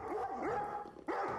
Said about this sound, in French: Boston essayait de me prévenir en gémissant et en aboyant.